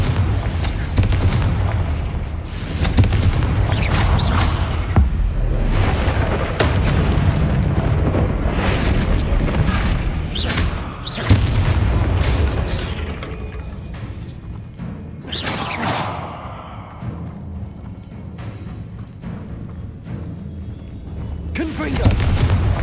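Confringo fire spells cast in the Hogwarts Legacy video game, a series of loud booming blasts and bursts arriving in rapid succession over dense game sound, with a voice calling out between some of the hits.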